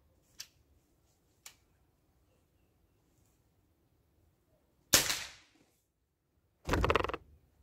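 Sniper Afrilac air rifle shots, heard as two small sharp cracks followed by two louder, longer bursts a couple of seconds apart, each standing alone in an otherwise quiet setting.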